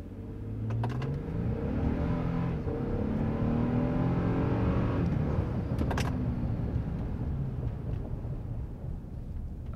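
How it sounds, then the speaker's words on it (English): A 2022 Toyota Tundra fitted with a TRD upgrade accelerates gently, its engine note rising and shifting steadily from inside the cab, with road and tyre hum underneath and a few faint clicks. "I heard the turbos cool down that time, so a little bit of acceleration."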